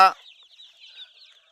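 After a short sharp burst, Tiger chickens at a poultry farm and hatchery keep up a high, continuous stream of chirpy calls, close and fairly soft, with no talking.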